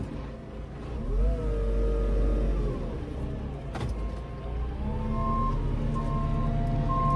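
JCB 538-60 Agri Xtra telehandler engine revving up, a close diesel drone that rises in pitch, dips briefly with a sharp click, then climbs again to a steady higher hum, with no talking.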